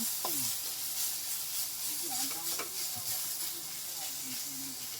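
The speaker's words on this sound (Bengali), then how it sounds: "এখন আমি চিকেন ভাজা করছি" Chicken fries in a pan with a steady, close sizzling hiss, a few faint clinks and squeaks of a utensil scattered through it.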